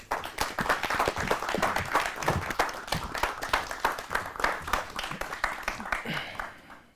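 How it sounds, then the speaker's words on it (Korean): Sustained applause from a crowd, dense overlapping claps at steady loudness that taper off near the end. "듣고 싶은 만큼 크게 박수로 맞아주시면 감사하겠습니다"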